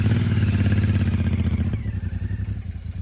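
A Royal Enfield 648cc parallel-twin, single-overhead-cam motorcycle engine runs with a steady, throbbing note that drops to a lower, pulsing idle about halfway through, heard up close with no talk.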